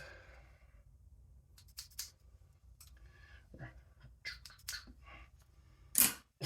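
Scissors snipping through hair during a self-administered haircut, a handful of short, crisp clicks scattered across a quiet room, with one louder, sharper snip near the end.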